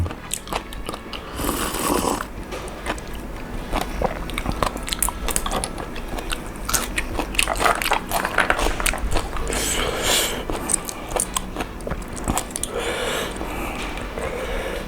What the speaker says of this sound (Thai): ทุกคนน่าจะได้ยินเสียงกัดหอยแบบกึดกึดกึดมันกรอบมากทุกคน